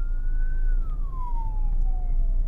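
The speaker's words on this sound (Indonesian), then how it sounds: "Itu depan ambulan ya?" An ambulance siren on a road heard in passing, one long wail sliding gradually downward in pitch over a steady background rumble of traffic.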